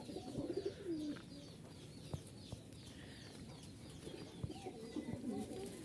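Rajshahi high-flying pigeons coo softly and repeatedly at close range, low rounded calls rising and falling, with occasional sharp knocks and a faint background hiss.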